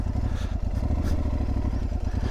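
An Aprilia Tuareg 660 motorcycle engine runs steadily in second gear off-road on small terrain, a close, even low throb with rapid regular pulses.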